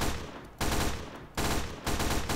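Gunfire in the video game Blackhawk Rescue Mission 5: dense, loud bursts of rapid automatic shots in two or three sustained volleys with short gaps between them.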